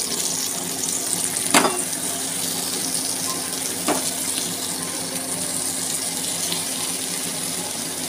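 Stuffed pomfret fish frying in a pan as kokum water is poured over it, giving a steady wet hiss with two sharp crackling bursts, no voices.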